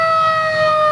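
A Windsor fire department engine siren, Engine 1, at a 1997 Shad Derby parade, sounding as a steady, loud, piercing tone held close by for about a second.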